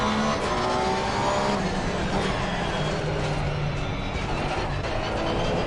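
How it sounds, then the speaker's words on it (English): Race cars in a GT3 sim racing game at Zandvoort roar steadily at close range, engine tones shifting as a faster car closes in and passes, loud and continuous with no talk. "Faster car coming up behind you."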